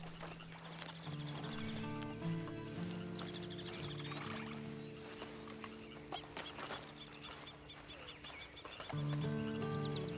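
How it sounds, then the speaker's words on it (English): A horse trots in Red Dead Redemption 2, with rhythmic clip-clop hoofbeats close by, mixed under a steady melodic music bed throughout, with no speech. "And you better get on this horse."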